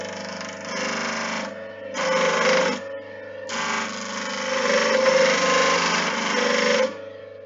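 A running bench grinder squares the end of a chisel, a steady loud whine with harsh grinding bursts as the steel is pressed against the wheel several times, heard alone without talk.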